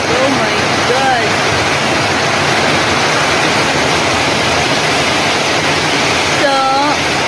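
Heavy pouring rain falling over a residential neighborhood, a loud steady roar throughout, with brief faint voice sounds rising above it now and then.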